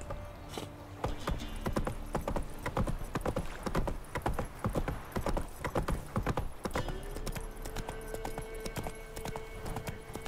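Hooves clip-clop at a quick, steady rhythm as a horse is ridden in the video game The Witcher 3. The beats are sharp and close, and a faint steady hum runs underneath.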